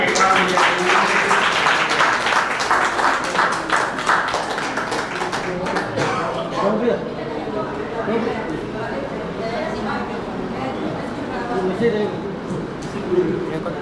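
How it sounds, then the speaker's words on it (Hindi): Loud audience applause, dense and sustained for several seconds before thinning out, with voices talking over and through it. "जोरदार तालियां एक बार"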